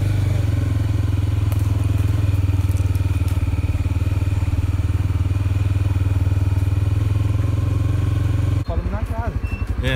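A motorcycle engine drones loudly and steadily up close, then cuts off near the end as a voice starts talking.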